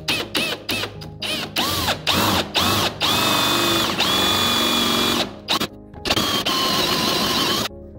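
Power drill boring a 35 mm hole with a wide bit while building a bathroom cabinet, loud and close, revving in short repeated bursts, then a longer sustained whine, stopping briefly and starting again.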